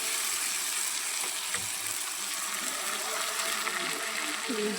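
Boiled noodles go into a pan of frying vegetables, with a loud, steady sizzle and hiss filling the whole stretch close up.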